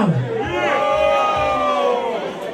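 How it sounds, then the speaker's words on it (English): A comedy show audience booing together, a sustained, loud mass of drawn-out voices from a crowd lasting a couple of seconds with no single speaker standing out. "they're booing Staten Island"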